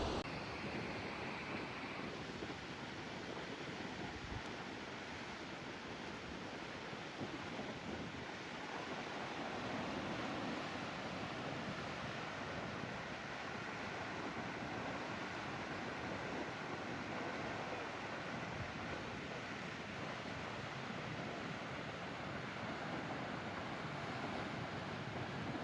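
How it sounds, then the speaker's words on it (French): Waterfalls flow in the background on a hike in Madeira, a steady broad rushing roar, distant yet constant, mixed with wind noise on the microphone and no talking. "c'est magnifique les cascades en fond qui coulent là"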